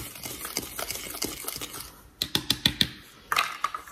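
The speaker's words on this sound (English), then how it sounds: "I'm gonna give that a stir." A spoon stirs baking powder, salt and all-purpose flour in a measuring cup with quick soft scrapes, then a few sharp clinks of metal against the cup follow in short bursts.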